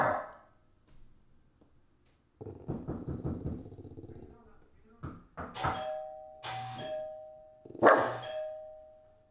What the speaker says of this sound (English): Third type is alarm barking